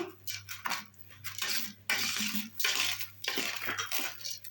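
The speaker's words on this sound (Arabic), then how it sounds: "مع هالمكونات كلياتها هيك حرك حتى يختلطوا" Chopped parsley, rice and other ingredients stirred together in a bowl for stuffed grape leaves with yogurt; a steady run of soft scraping and clinking from a utensil, close and continuous with no talk.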